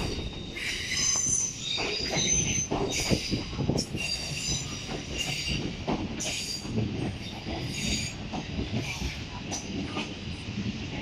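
A South Western Railway service from London Waterloo pulls into Portsmouth Harbour station, wheels squealing high and steady over rumbling carriages and clicking rail joints as it slows to a halt.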